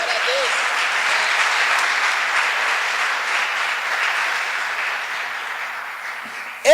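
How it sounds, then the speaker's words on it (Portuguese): A church congregation breaks into sustained applause, a thick, steady roar of many hands clapping that stays level for several seconds before a sudden loud knock or thump at the very end. "Quem crê, dá um aplauso a Jesus."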